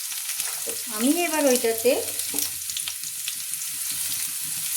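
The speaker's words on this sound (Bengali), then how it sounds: "তো এবার আমি আলুটাকে একটু ভাজা ভাজা করে নিচ্ছি" Potatoes fry in a pan for a Bengali village-style sojne flower (drumstick flower) dish, giving a steady soft sizzle throughout while someone speaks briefly in the foreground.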